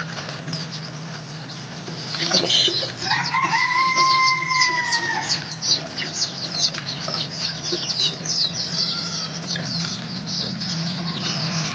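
Two-month-old chicks in a coop cluck and peep close by. Chirpy calls rise over a steady background hum, with scattered pattering movement throughout.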